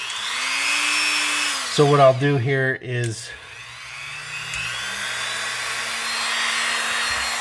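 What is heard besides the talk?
drill widening holes in model kit pieces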